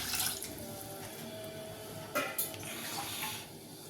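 Running water splashes into a metal cooking pot while making mutton kulambu, with a couple of brief clinks of cookware partway through, heard up close.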